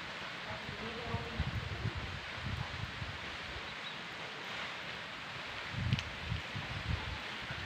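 Wind gusting through foliage, a soft rustling hiss with a few stronger surges and low rumbling buffets against the microphone.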